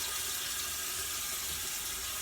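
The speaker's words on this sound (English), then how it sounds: "so now I'm going to rinse it out" Tap water runs steadily into a sink while a brush is rinsed out, a close, even hiss of flowing water with no voices.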